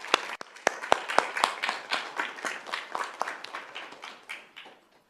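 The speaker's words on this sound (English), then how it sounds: "can we give a round of applause for all 3 schools" A round of applause at a school district governing board meeting, scattered individual claps from a modest audience, fairly faint and fading out toward the end.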